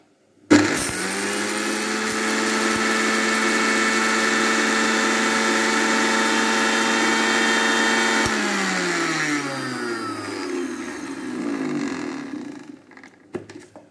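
An electric mixer grinder whirs loudly as it grinds mustard seeds into powder, starting abruptly, holding a steady high motor whine for several seconds, then winding down as it is switched off.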